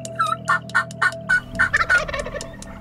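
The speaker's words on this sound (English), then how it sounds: "Old Gobbler's gobbling good right there on top of us." A wild turkey gobbles loudly and close by in a rapid string of sharp, rattling calls, then the gobbling trails off into quieter notes.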